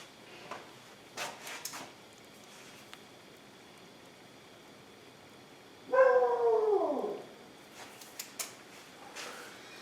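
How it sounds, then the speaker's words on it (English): A dog barking at swans lets out one loud, drawn-out bark that slides into a howl, surrounded by faint knocks and clatter from a quiet kitchen. "I think he saw a couple of swans and he likes barking at them."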